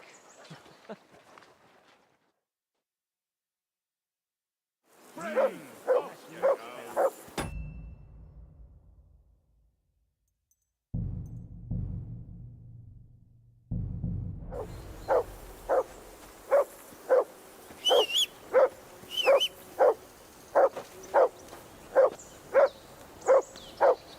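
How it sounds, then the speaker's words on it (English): A dog barks in Kingdom Come: Deliverance II, first in scattered bursts separated by silent gaps, then in a long, regular run of sharp barks at a steady rhythm. "Call off that mutt of yours!"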